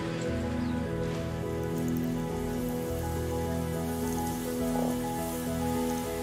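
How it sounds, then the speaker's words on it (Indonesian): Waterfall in the ecosystem-restoration game Terra Nil, a steady hissing rush of falling water under soft ambient music, even and continuous throughout. "Air terjun."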